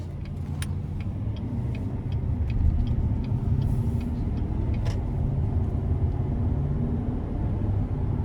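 2019 Chevrolet Silverado 1500 RST Double Cab with 8-speed automatic cruising normally, a steady low cabin rumble of engine and road noise with faint ticks and clicks, heard from inside.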